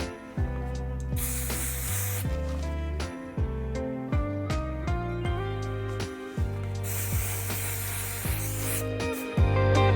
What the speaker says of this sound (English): We're gonna use some more hairspray.